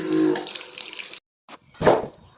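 An old, rusty water faucet squeaks and gushes as it is turned closed, giving a short burst of running water followed by a couple of brief squeaky bursts, close by with no talk.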